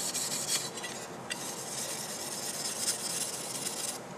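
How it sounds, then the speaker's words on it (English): Fine 1500 grit automotive sandpaper rubbed by hand over a metal surface being prepared for cold bluing, giving a steady, close, continuous dry scratchy hiss with slight strokes in intensity throughout. "I'm also going to be using a 1500 grit automotive sandpaper too"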